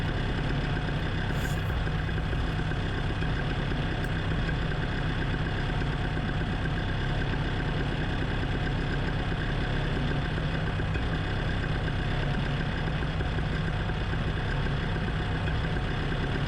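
A paramotor with an Atom 80 engine idles through its run-up before takeoff, a steady, droning engine note held at an even level throughout, with no talk over it.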